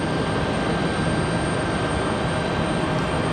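A Southwest Boeing 737-700 jet departs Raleigh-Durham International Airport, its engines a steady, broad roar that holds constant throughout, heard from a distance without voices.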